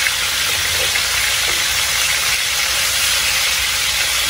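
Meat sizzles steadily in a hot pan just after being flipped for lettuce-wrapped burgers, a loud, continuous broadband hiss with no pauses and no voices.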